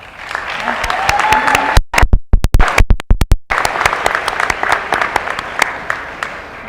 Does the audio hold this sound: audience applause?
yes